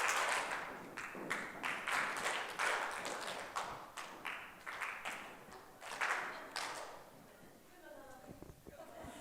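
An audience at a conference event claps and stamps feet together in a rhythmic pattern of sharp, repeated group beats, loud and close, trailing off into softer murmuring at the end.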